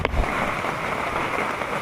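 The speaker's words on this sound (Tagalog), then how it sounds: "Ulan na naman, oh." Steady rain pours down throughout during a trip toward Pagadian, a dense, even hiss of drops on surfaces close by, with a brief louder thump near the start.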